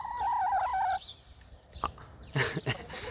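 Close-up hen calls, a warbling trill followed by a few short clucks and sharp squawks, with quiet background between them.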